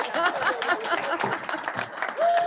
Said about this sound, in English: And there's a loud roar of applause.